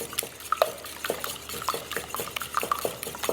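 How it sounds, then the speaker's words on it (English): A wire whisk beats eggs in a bowl, making quick, light clinks and taps against the sides in a steady, uneven rhythm, close and fairly quiet, with no talking. "beat those up just a little bit with a wire whisk"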